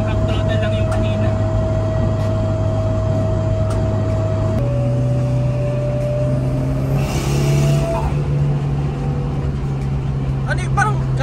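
A Mitsubishi Lancer Evolution 6 engine with a limited-slip differential, revving loudly and steadily at partial throttle, its pitch stepping and shifting as it climbs; people talk over the sound.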